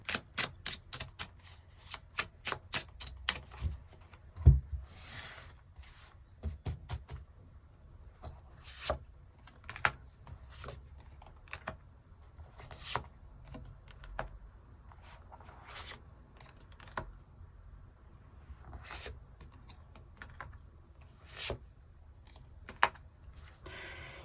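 Tarot cards are shuffled and drawn at a reading table, with a quick run of sharp riffling snaps at first, then scattered soft slides and taps against the surface, close and quiet.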